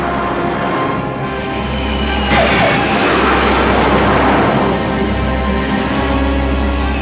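A fixed-wing aircraft's engine roars loudly and steadily during a carrier landing at around 140 miles an hour, swelling slightly in intensity partway through with no voices present.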